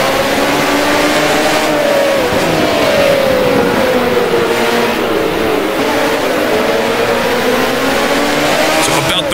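A 1979 Grand Prix race car engine in a racing video game drones loud and close throughout, pitch sliding up and down as the throttle builds power smoothly, with a voice audible underneath.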